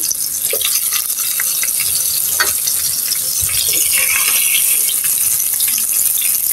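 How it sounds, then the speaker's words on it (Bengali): Eggplant sizzles steadily in hot oil in a pan, a constant crackling hiss with occasional louder pops and spatters. "আমি এখন উল্টিয়ে দিলাম, ভালো করে ভেজে নিব"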